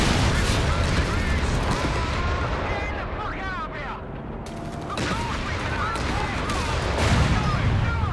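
A Company of Heroes 3 battle in which an Archer tank fires a tread shot, set in a dense, continuous din of gunfire, artillery and explosions that rises and dips throughout.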